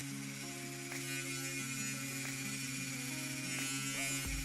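A small handheld electric fan runs steadily with a close, even motor whine and buzz, its pitch wavering slightly as it is held near the face, with no voice over it.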